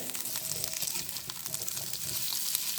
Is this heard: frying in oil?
yes